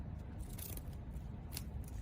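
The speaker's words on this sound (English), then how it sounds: "So cut out a circle" Scissors snip through felt close up, with a few quiet, soft crunching cuts and a faint rustle of fabric.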